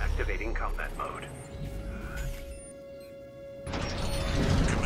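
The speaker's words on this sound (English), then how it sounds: "Main system activating combat mode." Machinery whirs and ratchets as a mech in the video game Armored Core 6 activates combat mode, loud and mechanical with a synthetic voice speaking over the gear noise.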